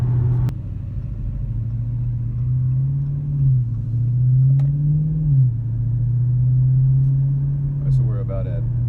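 A car drives in sport mode on an open road, its engine a steady low drone rising and falling gently as it cruises, with a faint click early on and a brief higher noise near the end.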